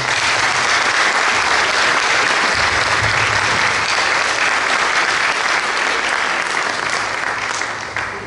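An audience at a Pride World Forum LGBT diplomacy event applauds a panel, with dense, loud, sustained clapping throughout that tapers slightly at the end.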